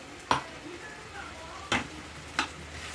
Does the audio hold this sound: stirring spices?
yes